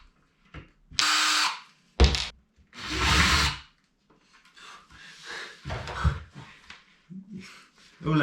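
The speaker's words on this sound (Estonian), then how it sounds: "Nii ma otsustasin, et ma ikkagi võtan need ajulised kruvid välja ja puurin need augud sisse." Power drill boring screw holes into a wooden skate ramp, several short loud bursts of whirring separated by pauses, up close, followed by lower handling noises and some breathing.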